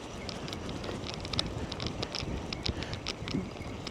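Steady wind buffeting a shoreline at night during rough-ground cod fishing. A low, constant rush of gusts is broken by faint ticks and rattles nearby, with no voices.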